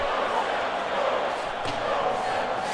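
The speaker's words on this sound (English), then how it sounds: "there's one group that's not giving up, and that's the crowd" Hockey arena crowd in the NHL 2K6 video game on Xbox 360, Canadiens vs Senators, with a home crowd roaring in a sustained broad wash of cheering and noise at a steady level.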